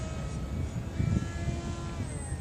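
The electric motor of a model flying-wing airplane drones steadily through its maiden flight, a constant buzzing whine heard from a distance outdoors with no talking.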